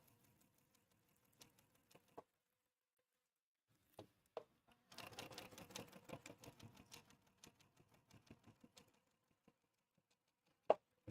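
A sewing machine stitching a seam line on a foundation paper pieced quilt block, a quiet run of rapid mechanical clatter lasting a few seconds, set between sparse faint clicks and taps.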